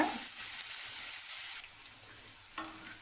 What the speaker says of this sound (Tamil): நல்லா நைஸாக கட் பண்ணிக்கோங்க சீக்கிரமாக ஃப்ரை ஆகிடும்